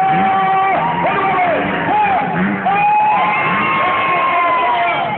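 A large crowd in a grandstand at a motocross race in Aracaju, Brazil, cheers and roars continuously, with whoops and shouts rising over the dense, loud wall of voices.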